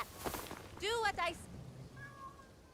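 A cat in Assassin's Creed Shadows gives a clear, rising-and-falling meow, then a second shorter one, fairly close and quiet, set among soft game ambience.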